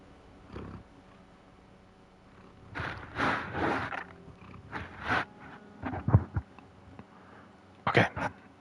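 A cat close to a microphone makes a series of rough, wet snuffling and sucking noises in irregular bursts, some loud and near, with quiet gaps between them.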